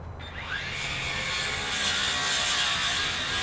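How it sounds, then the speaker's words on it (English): A circular saw spins up and bites into a rotted porch post, turning into a loud, sustained whining cut that runs steadily for several seconds, close by with no talk. "I like circular saws for making these cuts."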